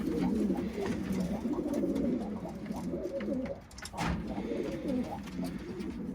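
Pigeons coo in low, throaty, repeated bursts, close and fairly dense, with a brief lull midway before the cooing resumes, set against a soft outdoor background.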